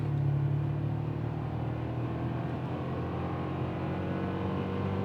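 2024 Toyota Tacoma with the 2.4-litre turbo four under hard acceleration, heard from inside the cab as a steady, strained engine drone that stays loud and even throughout, with no talk.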